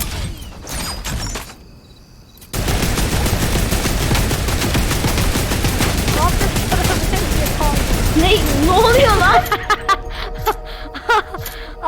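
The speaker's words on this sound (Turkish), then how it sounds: "Ama bak burada taret var. Bununla taramak ister misin zombilere?" Rapid bursts of turret machine-gun fire against zombies in the Fortnite video game rattle on continuously for several seconds, with excited voices talking over the shooting.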